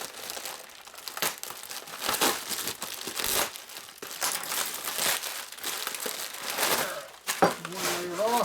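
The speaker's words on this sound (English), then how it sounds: "Tearing works better than cutting when your knife's getting dull." Packaging being torn open by hand while unboxing a 1940 Harley WL racing rear cylinder, with repeated sharp rips and crinkling of paper and cardboard in close, loud bursts.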